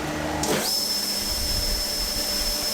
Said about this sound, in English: So I'm using this belt sander to get them down a little bit more